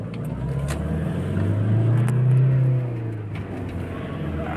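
Toyota Hiace commuter van with a 2KD D4D diesel engine suffering low power, revving up steadily then easing back, a loud continuous close engine drone with no talk.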